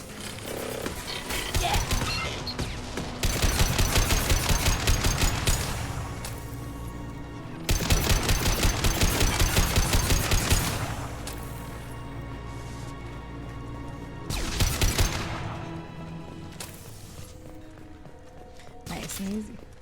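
A hacked turret in the Mass Effect 2 video game fires in rapid automatic bursts, three loud volleys of repeated shots over a busy background of game sound effects, with voices speaking at times.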